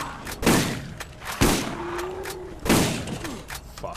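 Gunfire in the Borderlands video game at a bandit camp: several sharp, loud bursts of shots with echoing tails, spaced a second or so apart, with a brief tonal whine between them.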